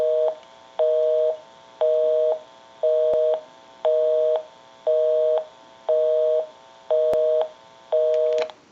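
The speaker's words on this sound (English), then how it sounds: "We'll call my number and it'll be busy." A telephone busy signal heard through a Western Electric 354 rotary wall telephone: a steady two-tone beep repeating in even on-off pulses, about one per second, clear and close.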